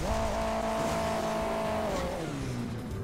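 Engine of a car in the game Hill Climb Racing 2 droning steadily at high revs, its pitch holding then sliding down near the end, with a faint tire squeal, no talking.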